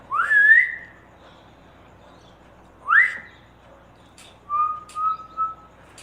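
A person whistles to call a dog: two rising, swooping whistles a few seconds apart, then a string of short steady whistled notes. The whistles are loud, clear and close against a quiet background.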